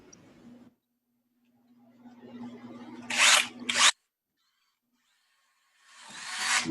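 An electric drill whines as it bores a hole for a finial in a wood-turned piece on a lathe. It starts with a motor hum, then gives two sharp, loud bursts of cutting noise, goes quiet, and revs again at the end.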